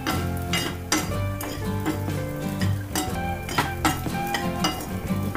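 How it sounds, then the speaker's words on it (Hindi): Spices temper in hot oil for rice, sizzling and crackling steadily while a spoon clinks and stirs against a metal pan, with sharp tapping scrapes throughout. "बच्चे के चावलों को तड़का"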